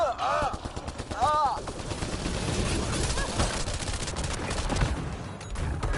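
Sustained gunfire from a firefight in the video game Mass Effect Andromeda, with dense rapid bursts of shots running loud and close throughout, mixed with voices shouting over the fight.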